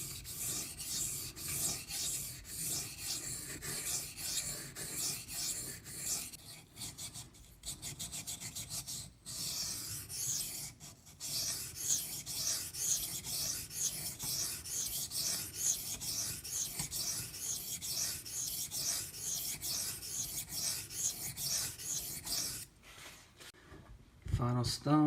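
Ganzo FH11 knife being sharpened on a whetstone, a continuous rhythmic rasp of blade strokes with short pauses, close and moderately quiet, while a person talks over it.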